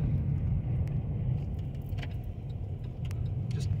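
A Chevrolet Bolt EUV electric car rolls slowly up to a charger at a desert mini mart, a quiet low rumble of tires with a few faint clicks and jingles over the top.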